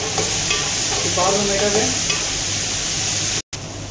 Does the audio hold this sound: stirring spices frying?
yes